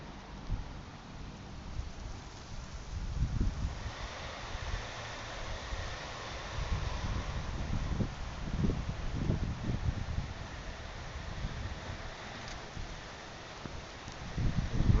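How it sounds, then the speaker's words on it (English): Heavy rain pours steadily during a thunderstorm from a tropical storm in Fredericton, a continuous dense hiss with low rumbling gusts rising and falling throughout, close and enveloping with no voices. "And this is a lot of rain that's coming down here."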